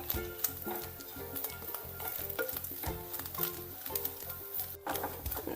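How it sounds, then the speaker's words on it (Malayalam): Spices sizzle and crackle steadily in a hot pan for a Kerala-style cashew nut curry, with rhythmic stirring scrapes throughout and no talking. "ബ്രൗൺ കളറാവണ വരെയും വറുത്തെടുക്കണം"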